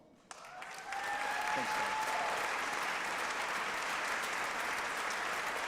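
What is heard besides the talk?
audience applause at State of the State address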